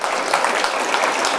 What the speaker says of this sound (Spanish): Que se escuche el aplauso.